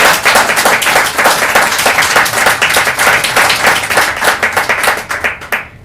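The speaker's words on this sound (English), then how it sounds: "Maybe we can give her one more round of applause." Audience applause at an evening reading swells into a dense, loud round of clapping from many hands, holding steady before thinning out at the end.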